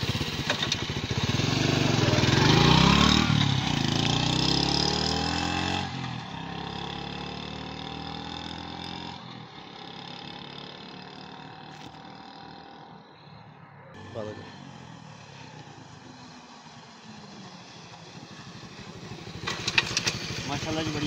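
A Honda 70 motorcycle runs on a test ride, its small single-cylinder engine puttering loudly near the mic at first, then fading under wind noise and rising again later.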